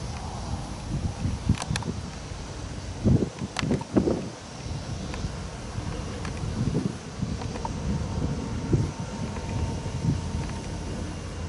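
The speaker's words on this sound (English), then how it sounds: "Damn wind." Steady outdoor wind buffets the microphone with a low rumbling roar and occasional gusts, near a Union Pacific rail yard in Fairbury, Nebraska, with no voices.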